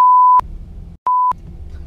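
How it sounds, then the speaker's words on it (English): Two censor bleeps of a steady pure tone cover swear words in casual conversation. A long bleep comes first, then a short one after a brief silence, each followed by quiet room noise. "I'll beep it out."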